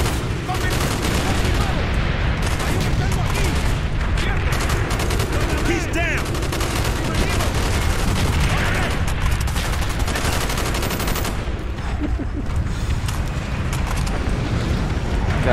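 Dense, continuous gunfire and explosions in the Call of Duty Black Ops shooter game, with a shotgun among loud, overlapping bursts that run the whole time without a break.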